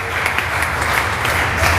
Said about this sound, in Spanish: Dele palmas a Cristo, hermano